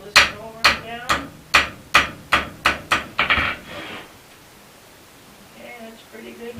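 Hammer blows forging a steel arrow-pattern latch body, about nine sharp, evenly spaced strikes ringing close and loud, then a quieter stretch of faint rustling.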